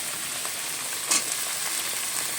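Hot oil sizzles in a wok on a home stove as onions are cooked, a quiet, steady frying hiss with one brief louder crackle, and no talk.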